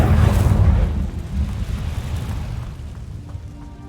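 Incendio fire spell cast in the Hogwarts Legacy game: a loud, deep roaring blast that erupts at once, then rumbles and fades over a few seconds, alone without talk.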